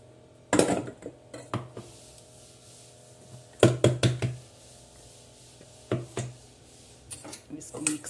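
Spices and ground red Kashmiri chili being mixed into jackfruit pickle ingredients in a bowl, with scattered clinks, scrapes and rubbing knocks from utensil against the bowl in short bursts, with quiet pauses between them.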